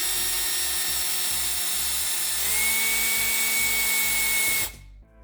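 A power drill bores a hole through the plastic of a card shuffler, whining loudly and steadily up close with a slight pitch rise midway, then cutting off abruptly near the end.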